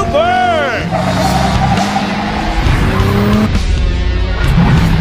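A powerful street car in the video game Cyberpunk 2077 roars its engine while the tires squeal and skid in long rising whines, loud and close throughout, with some talk over the driving sounds.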